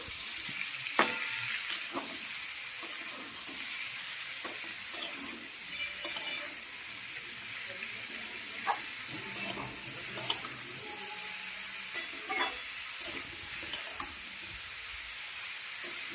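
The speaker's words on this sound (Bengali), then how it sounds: "এবার ভালো করে নাড়িয়ে দেবো" Ash gourd cooked with green chili, salt and turmeric is stirred in a pan, with a steady low sizzle under repeated scraping and clinking strokes of a spatula, close and moderately loud, no talking.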